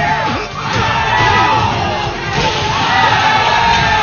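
At a King of Fighters XIII tournament top-eight event in Brazil, a loud indoor crowd shouts rival chants back and forth, with rhythmic group yelling and swelling roars filling the whole stretch.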